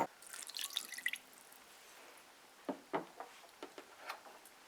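Water poured into a bowl of ground Guyanese curry paste with broadleaf thyme and spices, first a soft trickling splash, then a few separate drips and small splashes, faint and close, with no talk.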